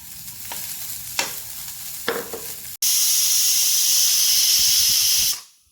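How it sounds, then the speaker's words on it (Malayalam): Grated coconut goes into hot coconut oil for a chickpea curry; a few utensil taps come first, then a loud sudden sizzle holds steadily before cutting off abruptly near the end. "കുറച്ച് വെളിച്ചെണ്ണ ഒഴിച്ചിട്ട് വേണം വറുത്തെടുക്കാൻ."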